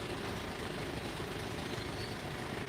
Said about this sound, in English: I've just got a big truck coming in here if you can't hear me for a minute